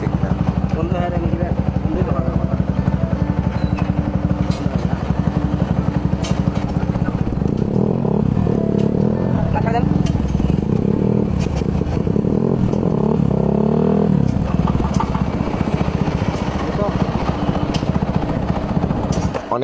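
A motorcycle with a faulty rear brake runs up close during testing, its engine a loud continuous drone with clattering and shifting revs, and talk mixed in.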